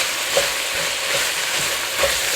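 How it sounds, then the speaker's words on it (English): Jambalaya rice gets stirred in a hot pan, a steady close sizzle and hiss with soft scraping strokes now and then, and no voices. "Stir that around up in there"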